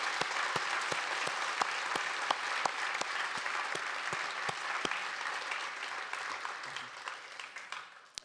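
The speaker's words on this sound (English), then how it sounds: "How about a round of applause for our candidates this evening?" Audience at a municipal election candidates' forum hosted by the Chamber of Commerce in Medicine Hat applauds steadily, a dense, even wash of many hands clapping that fades slightly toward the end.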